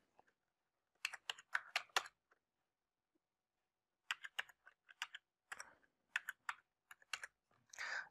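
Computer keyboard typing while filling in an online job application form, in two quiet bursts of rapid clicking keystrokes separated by a pause of about two seconds, with no talking.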